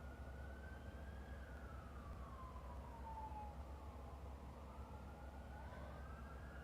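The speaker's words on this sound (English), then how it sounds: "My area doesn't usually have this many sirens." Emergency vehicle sirens wail outside, a single siren sweeping slowly up and down in pitch and heard at a moderate distance over a steady low rumble of traffic, with no talking.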